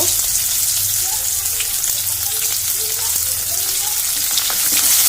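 Chopped onions frying in hot oil with cinnamon pieces for a Bengali rui fish biryani, a loud, even sizzle that holds steady close up with scattered small pops.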